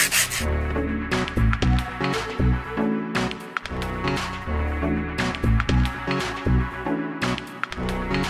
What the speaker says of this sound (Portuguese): Então, sentido vai e vem da lixa.